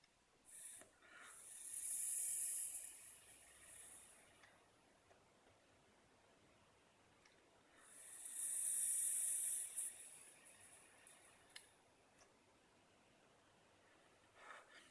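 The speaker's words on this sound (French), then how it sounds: "On va voir ce que ça donne comme vapeur." E-cigarette tank vaped at 11 watts with a tight 2.5 mm airflow, giving two long, soft, airy hissing draws several seconds apart against a quiet background.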